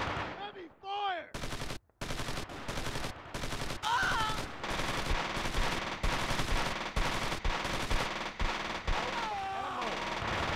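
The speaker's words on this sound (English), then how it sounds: "Heavy fire!" Battle audio from the 2003 war game Squad Assault: West Front: sustained heavy gunfire with rapid machine-gun bursts and single shots crowding together, loud and nearly continuous, with a brief pause early and a voice shouting.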